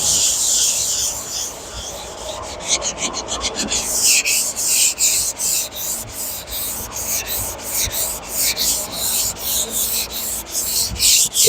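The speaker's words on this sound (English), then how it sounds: "Wax on, wax off." A 1966 Ford Galaxie is worked by hand during body and paint prep, with steady rhythmic rubbing and sanding strokes on the panel, close and fairly loud, repeating in quick back-and-forth passes.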